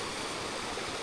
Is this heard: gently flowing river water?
yes